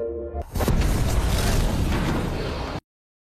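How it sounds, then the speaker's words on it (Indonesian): A sudden loud blast erupts inside a lab after a brief lower rumble, followed by a sustained roaring, crackling burst that cuts off abruptly. "Tiba-tiba saja terjadi ledakan di dalam lab"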